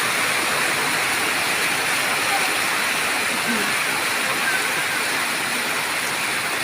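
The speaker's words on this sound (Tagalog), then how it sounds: "Lakas ng ulan oh." Heavy rain in Bataan pours down in a steady, dense roar that fills the scene without pause, loud and close.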